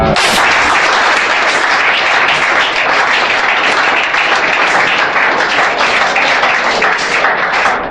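A congregation at a church deliverance service applauds God, a loud, full, sustained roar of many hands clapping that holds steady from start to finish.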